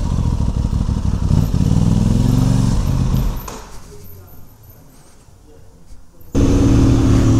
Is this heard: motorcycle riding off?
yes